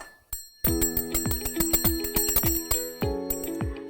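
A bright bicycle-style bell plays a short, cheerful melody of quick rhythmic dings, each note ringing and decaying, as the opening jingle for a children's adventure segment; no voices.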